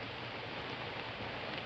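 Heavy rain pours down steadily in a dense, even hiss with no pauses.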